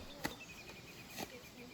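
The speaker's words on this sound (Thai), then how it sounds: "จิ้งหรีด" A cricket chirps faintly near a forest stream, short thin repeated pulses over quiet background hiss, with a couple of soft taps.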